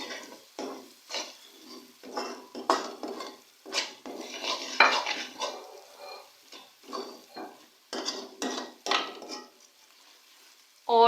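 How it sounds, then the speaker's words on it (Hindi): Spices being stirred into an aloo gobi salan in a pan, heard as a run of short, close scraping and clinking strokes of a spoon against the metal, repeated steadily with no talk. "ये हम तमाम स्पाइसेस इसमें ऐड कर देंगे। अब हम अच्छी तरह से मिक्स करेंगे।"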